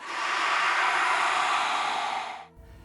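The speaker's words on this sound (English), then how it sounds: "What you're hearing now is a necromorph from the game Dead Space" A long, harsh, hissing shriek of a necromorph from the game Dead Space sustains loudly for over two seconds, then cuts off abruptly, leaving a low rumble behind. It sounds like a monster's scream.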